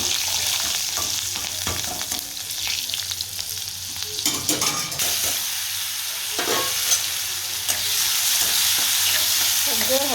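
Urad dal, green chillies and spices sizzle and crackle steadily in hot oil for an instant upma breakfast, a continuous close frying hiss with occasional stirring clinks and scrapes.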